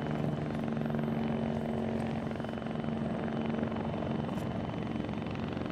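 A helicopter in the video game ARMA 3 drones steadily at close range, its rotor thrum holding an even, continuous level from start to finish.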